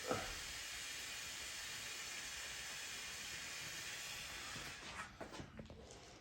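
A powder coating spray gun lays a coat of Illusion Ruby on cast valve covers from a 5.0 Coyote engine, giving a steady, close hiss that runs nearly unbroken before a few handling clicks near the end.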